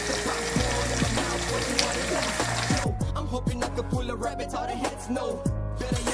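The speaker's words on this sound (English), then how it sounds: "I pour my cooking oil into the pan." Cooking oil poured into a pan, a steady close liquid stream that cuts off partway, followed by trickles and a run of gurgling, bubbling drips.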